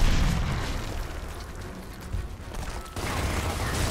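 Frag grenade blasts and gunfire in the Gears of War Ultimate video game, a dense loud rumbling barrage with a sharp renewed burst near the end.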